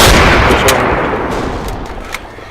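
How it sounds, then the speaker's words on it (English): Heavy artillery and gunfire in a dramatized war report of the invasion of Guam: loud continuous booming barrage with dense crackling shots, fading slightly toward the end. "A lot of artillery fire."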